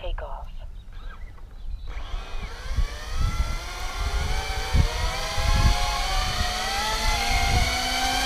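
The electric motors of a model F-35 VTOL aircraft spool up after a quiet start and rise into a loud, layered whine as it lifts off to hover outdoors, with gusty rumbling thumps underneath.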